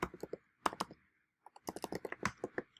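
Keys tapped on a computer keyboard in two quick bursts of clicks separated by a short pause, close and fairly quiet, with no voices.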